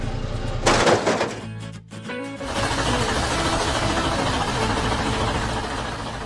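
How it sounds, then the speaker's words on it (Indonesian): A heavy machine engine runs with a steady mechanical rumble after a brief burst of clattering noise and a short dip. "Dengar suara mesin itu?"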